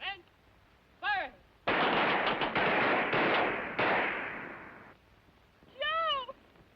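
Rifle fire on a military firing range in a 1953 film soundtrack: a sustained burst of rapid, loud gunshots lasting a few seconds, framed by brief whistle-like musical or comic sound effects before and after.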